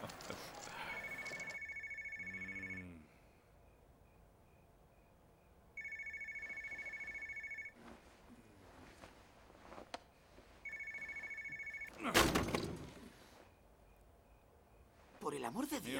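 A telephone in a poker film rings in three long, loud electronic bursts separated by quieter pauses, with brief voices and sharp noises in between.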